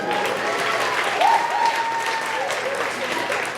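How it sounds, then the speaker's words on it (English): Comedy club audience at a stand-up show breaks into loud, sustained applause close by, with a voice briefly heard over the clapping. "Give him a round of applause."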